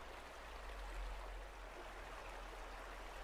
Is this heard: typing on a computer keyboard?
no